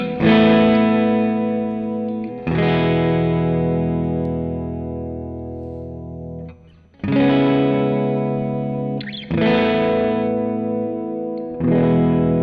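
Electric guitar played through a Vox-style amp simulation, distorted and chorused with a dark tone; sustained chords ring out in several separate strums that each decay slowly, loud and close, with no voices.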